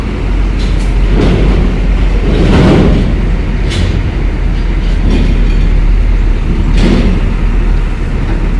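A tall MAN truck carrying heavy equipment rolls past close by, its loud engine and road rumble swelling and easing in continuous waves.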